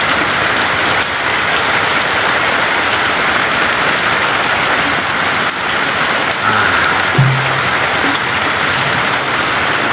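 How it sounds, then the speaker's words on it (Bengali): Rain beginning to fall in Gournadi, Barisal, a dense, steady hiss of drops pattering on surfaces close by, continuous and fairly loud throughout, with a faint low thump or two underneath. "অবশেষে দেখুন বৃষ্টি নামতে হচ্ছে আমাদের আজকে বরিশাল তুর্কি"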